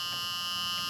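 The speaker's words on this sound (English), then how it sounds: "Is that a buzzer?" Steady electronic warning buzzer sounding continuously inside the cab of a 1976 GMC C35 truck, a constant high-pitched tone held at an even level with no talk.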